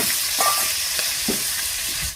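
Koi fish sizzle in hot oil in a pan, a steady bright frying hiss with a few soft clinks of stirring, close and moderately loud, with no talking.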